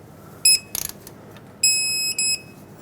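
A torque wrench tightens an outer tie rod nut to 44 foot-pounds on a 2011-2018 Ram 2500. Two sets of sharp, high electronic beeps sound close by, with a quick run of clicks between them.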